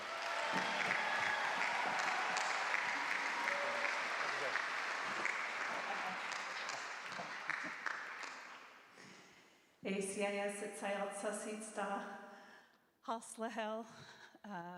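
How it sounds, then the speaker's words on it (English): Sustained crowd applause at the Paramount Theatre in Seattle fills the first several seconds, fading out, then a voice begins speaking over a quieter room. "A round of applause for my sister here, Deborah."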